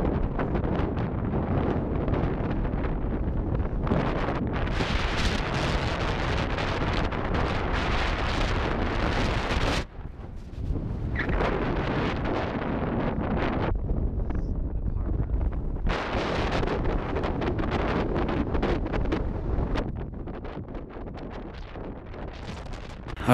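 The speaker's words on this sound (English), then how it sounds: "So windy." Strong wind buffets the microphone on the snowy summit of Mount Belford, a Colorado 14er, in a loud, continuous roar that gusts and surges with only a brief lull partway through.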